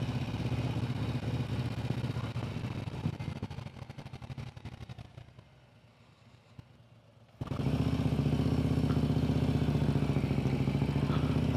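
Motorcycles ride across the Golden Gate Bridge in San Francisco, their engines a steady mid-pitched drone. The drone sinks to a quieter lull for a couple of seconds, then surges back louder and holds a constant rumble.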